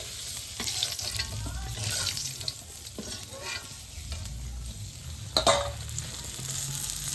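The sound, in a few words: fish frying in a pan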